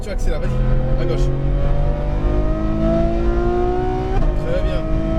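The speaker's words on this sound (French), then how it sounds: "Et là, tu accélères, vas-y." A Ferrari F12 Berlinetta's engine revs up on a Las Vegas track, pitch climbing steadily, gear change near the end, while a person talks over it.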